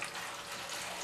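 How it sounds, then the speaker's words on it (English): Water poured into a container holding cucumbers, a steady close splashing hiss that runs unbroken through the whole short moment. "And then you're just going to put some water in here"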